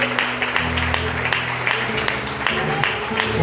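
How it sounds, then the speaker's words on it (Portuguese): Church congregation applauding during a Portuguese-language sermon service, a dense steady wash of clapping over a low hum, with scattered sharper claps standing out, moderately loud throughout. "A igreja aplauda o Senhor Jesus em nome de Senhor Jesus."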